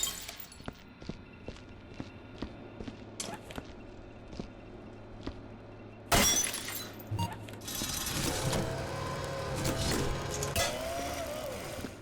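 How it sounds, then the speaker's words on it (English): Glass shattering in the video game Viscera Cleanup Detail, a string of sharp, separate clinks and taps followed by a loud crash and a scattered tumble of breaking shards. "I adore the sound of the glass breaking."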